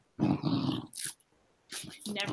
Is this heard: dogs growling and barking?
yes